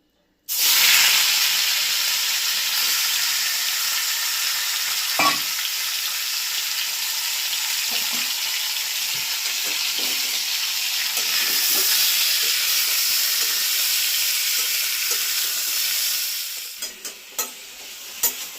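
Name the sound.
chicken frying in pan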